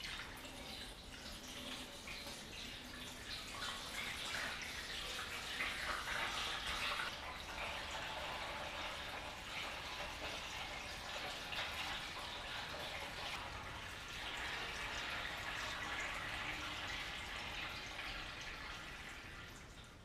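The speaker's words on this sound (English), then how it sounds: "I got to pour up my honey because I got my tank all back together" Honey from the 2020 harvest is poured into a bottling tank, making a steady, soft liquid rush and dribble that runs for about twenty seconds, swelling and easing a little, with no speech over it.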